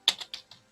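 Four quick, crisp keystrokes on a computer keyboard, close and fairly quiet, tapped at an uneven rhythm with silence between them and no voices.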